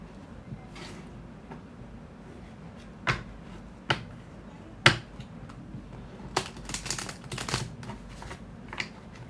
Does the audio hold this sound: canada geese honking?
no